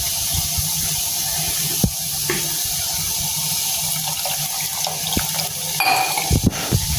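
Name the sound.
water washing soaked tamarind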